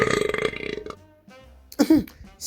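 A long, loud, rattling burp sounds close to the microphone, followed by a brief second vocal burst shortly after.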